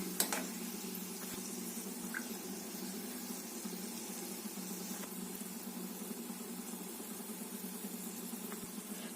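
Gulab jamun fry in hot oil with a faint, steady bubbling hiss that stays even and low throughout, with no voices.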